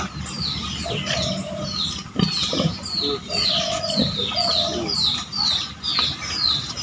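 Chicks and hens on a farm, repeated high peeping chirps over lower clucking, close by, with a person talking intermittently underneath.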